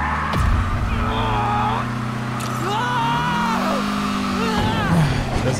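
Car driving in the video game Marvel's Spider-Man, a steady engine drone with gear shifts and sweeping pitch changes, moderately loud, with someone talking over it throughout.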